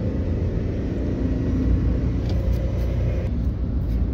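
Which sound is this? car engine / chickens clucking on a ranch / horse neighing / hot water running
car engine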